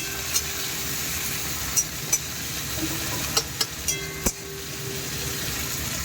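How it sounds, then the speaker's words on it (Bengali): Green chili and onion fry in a pan with a low, even sizzle, punctuated by several brief scraping knocks of stirring. "ভাজায় দিয়ে দিচ্ছি কাঁচা লঙ্কার পেঁয়াজ।"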